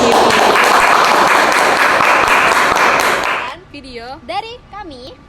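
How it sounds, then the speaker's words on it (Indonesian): Loud, dense applause from a group thanking the guests at the close of an interview, sustained for about three seconds before cutting off, followed by a voice talking. "boleh gak sih kita beri tepuk tangan dulu untuk narasumber kita dan kita sendiri?"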